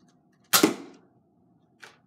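An Air Warriors Air Max Baron toy air blaster fires once with a sharp, loud pneumatic pop and a short hissing tail, and a fainter click follows about a second later in a quiet room.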